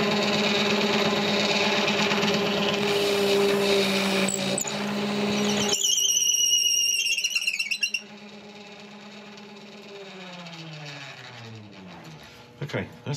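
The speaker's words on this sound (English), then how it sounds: "we're set up to go in with an auger bit. I apologise for the sound this makes because it's quite horrendous" An auger bit bores into oak spinning on a lathe, giving a loud, harsh squealing chatter with a high screech, then a rougher scraping rumble with shifting tones and a few clunks toward the end.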